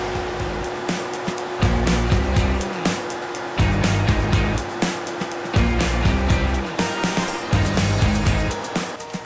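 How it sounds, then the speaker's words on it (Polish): A farm tractor with its PTO engaged for a SaMASZ P6 hay tedder runs at raised revs, giving a steady droning hum with a rhythmic, pulsing rise and fall of machinery noise repeating every couple of seconds. "delikatnie gazem ręcznym zwiększamy obroty ciągnika do momentu, gdy uzyskamy 540 obrotów"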